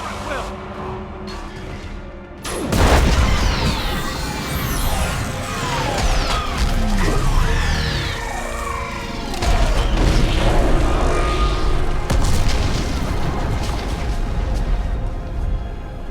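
Orbital strike explosions slam into a live Reaper in Mass Effect 3, a sudden loud boom followed by sustained rumbling blasts, whooshes and mechanical clatter with further impacts rolling on near and heavy.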